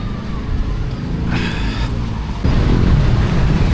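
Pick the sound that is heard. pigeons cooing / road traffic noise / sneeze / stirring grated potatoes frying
road traffic noise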